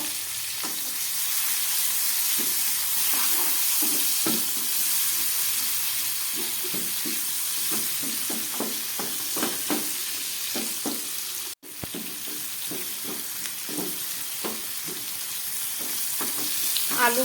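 Chopped onions and tomatoes hit hot oil with whole cumin seeds over a low gas flame, producing a continuous close sizzle dotted with frequent stirring clicks and scrapes, with no talking.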